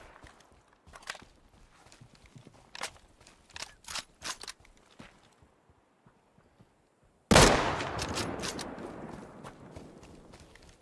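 Gunfire in an open world survival video game: after a stretch of faint clicks and footsteps, a single loud, sharp shot erupts and rings out into a lingering decaying rumble.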